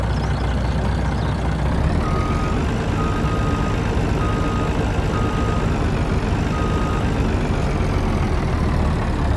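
A heavy truck in Farming Simulator 2019 idles with a loud continuous engine drone, while faint, evenly spaced reversing beeps repeat over the rumble throughout.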